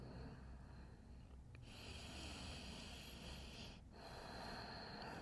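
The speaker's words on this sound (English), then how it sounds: "Seal your lips and just breathe in and out of the nose." Slow Ujjayi pranayama breathing through the nose during a yoga flow, heard as a long, faint, hissing inhale-exhale that is broken by a brief pause, then a second, similar breath, close and quiet.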